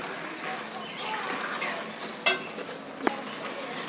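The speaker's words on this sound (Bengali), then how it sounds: "এরপর খুব ভালোভাবে নাড়িয়ে চাড়িয়ে নেব।" A utensil stirs pui data stalk curry with ghee in a pan, giving soft scraping and a faint background sizzle, with a couple of sharp clinks against the metal near the end.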